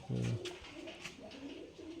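A male pigeon, a single cock bird of a light green-tinged colour in a Rajshahi Giribaz loft, gives one loud, close, low coo followed by quieter coos and soft bird chatter.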